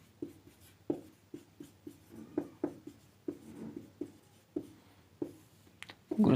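Chalk or marker writing on a board during a physics lecture, a steady series of distinct, fairly close strokes and taps at a regular rhythm with no talking.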